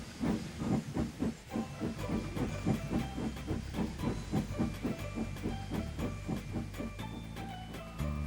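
Twin steam engines chuffing out of a yard, a quick steady rhythm of sharp steam puffs and hiss over a low rumble, moderately loud and continuous, without voices.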